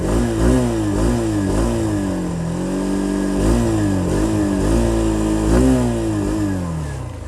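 An oil-cooled, fuel-injected BS6 Hero Xtreme 160R motorcycle engine revs repeatedly, rising and falling in pitch in several blips over a steady idle, loud and close.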